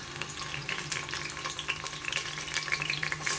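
Onions fry in a pressure cooker with a busy, crackling sizzle and scattered sharp pops, steady and close throughout, with no talk.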